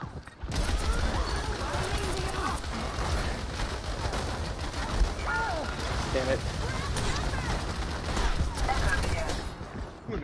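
Gunfire in the video game Overwatch, rapid bursts of shots and mechanical clatter running continuously and loudly over the game's background noise.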